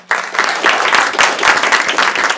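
Loud, dense audience applause at the close of a lecture event, many hands clapping in a sustained burst that starts abruptly and holds steady throughout.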